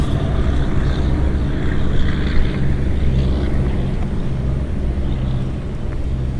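Wind buffeting outdoor microphones at midnight outside a shopping centre, a constant heavy low rumble and gusty roar filling the whole stretch, with no talking.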